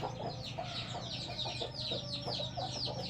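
A flock of hens and roosters clucks continuously at close range, a busy overlapping chatter with no talking.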